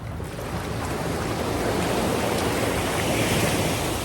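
Strong ocean waves roll in at sunrise on the coast of Eastern Samar, a dense, continuous roar of surf with some wind rush, steady and close throughout with no voices.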